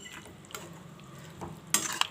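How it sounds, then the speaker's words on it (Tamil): Soft scraping and light clinks of a spoon stirring squid gravy in a pan, with a sharper metallic clatter near the end. "நல்லா கிளறி விட்டுட்டு"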